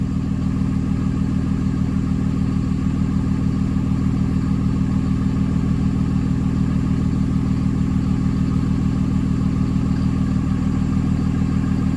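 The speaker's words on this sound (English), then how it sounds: "that's the exhaust brake closed now. Still at a low idle." A Dodge Ram 5.9 Cummins diesel engine idles low and steady with the exhaust brake closed, a constant rumbling throb and slight clatter, unchanging throughout with no voices.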